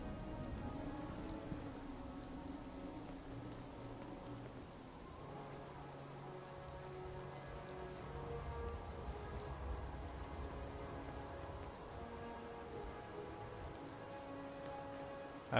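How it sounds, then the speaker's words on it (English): Rain falls steadily in Fallout 4, a soft continuous patter on surfaces under faint game ambience and low tonal hums, with no voices. "Is it raining inside again?"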